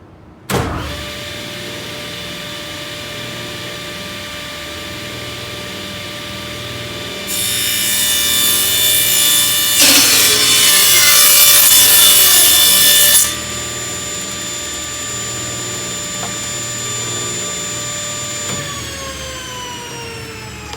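A table saw spins up with a steady whine, then rips a plywood board to finished width, the tone roughening and growing louder for several seconds as the blade cuts through, before settling back to the running hum alone.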